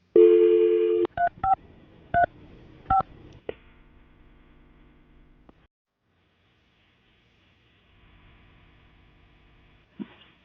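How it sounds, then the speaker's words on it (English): A telephone dials out to place a call: a steady dial tone, then a quick series of distinct keypad tones, followed by quiet line noise and a faint later click, with no talking. "we're going to call it right now so we can get her on the phone"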